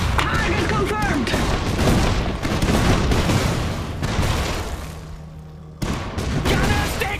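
Dense battlefield gunfire and booming blasts in the mech strategy game Iron Harvest, loud and continuous with rapid shots and explosions, briefly thinning before another heavy burst, with unit voices calling out over it.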